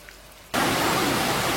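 Heavy rain starts abruptly as a loud dense hiss during a night motorcycle ride, steady and close after a quiet opening.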